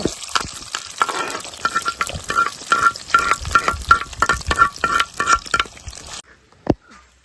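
Fenugreek, mustard seeds and shallots frying in hot oil, a close crackling sizzle broken by rhythmic stirring scrapes and clinks, which cuts off abruptly near the end.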